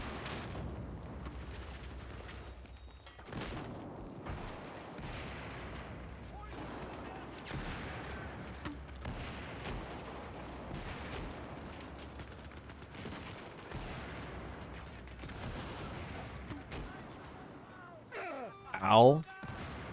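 Rapid machine gun bursts from a prone enemy in Battlefield 4 multiplayer, mixed with other battlefield gunfire and explosions throughout, with a player talking over it and a sharp louder burst near the end.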